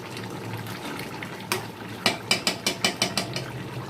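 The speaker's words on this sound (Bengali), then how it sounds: "এবার ঘি দেব।" Ghee is spooned into a pot of jackfruit curry, with soft stirring and simmering, then a quick series of sharp metallic spoon taps against the pot rim.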